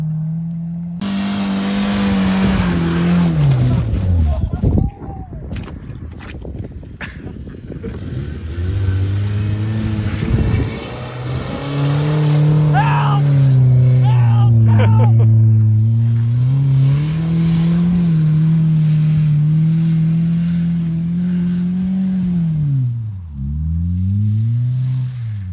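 A car stuck in mud on a hill revs hard again and again, the engine surging and dropping in long loud swells with brief sputters, close by and with no talk.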